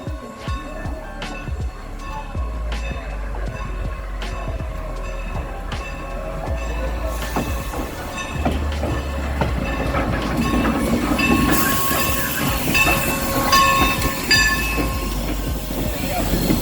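Strasburg Railroad steam locomotive 475 pulling an excursion train after a brake valve repair, heard as a steady rolling train with wheel clatter and rail noise that builds slightly over time, with some voices in the background.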